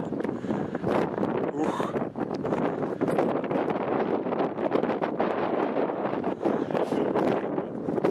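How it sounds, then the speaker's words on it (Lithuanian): Steady, rough wind buffets the microphone in a constant roar, with gusty rustling throughout and talking mixed in, on the road from Gibraltar toward Tarifa, Spain. "pagaliau pavėsės vėjai pučia"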